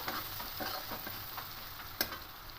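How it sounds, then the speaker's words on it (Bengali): Turmeric and Kashmiri chili powder being stirred into a pan for dal fry, a soft frying sizzle with light scraping strokes and one sharp click near the end, fairly quiet throughout. "অল্প হলুদ দিয়ে দেবো আর কালারের জন্য কাশ্মীর লঙ্কার গুঁড়ো দেবো দিয়ে খুব ভালো করে মিশিয়ে নেবো"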